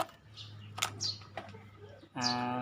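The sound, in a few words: pigeons cooing and fluttering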